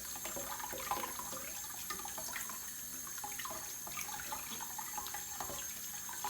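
Running water rinsing gluten dough held in a strainer to wash out the starch, a soft steady stream and splashing with faint drips, continuous and moderately quiet with no voices.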